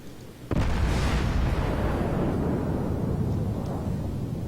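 A single heavy warship gun blast from the battleship Amagi in World of Warships booms out loud and sudden, then a long rumbling roar that tails off slowly.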